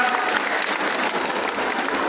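A crowd at a Haryana political rally applauds to welcome the state president, dense steady clapping filling the whole stretch with no voice on top.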